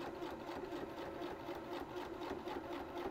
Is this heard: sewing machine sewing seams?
yes